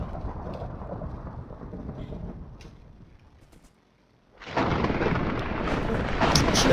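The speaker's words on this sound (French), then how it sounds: "Je suis encore désolé pour le bruit des orages." Thunder from a thunderstorm rolls in deep, heavy rumbles over steady rain, easing into a quieter lull before a loud, close crack and roar burst back in.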